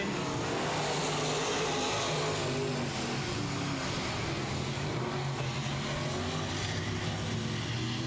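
Dirt racing trucks running around the Texas Dirt Truck series track at I-37 Speedway, a continuous loud engine roar with revving pitch changes as the trucks pass, with no talk.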